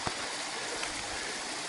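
A mountain stream pouring over a rock step at the Rioscuro falls near Cineto Romano in the Monti Lucretili, a steady close broadband rush of falling water with no voices.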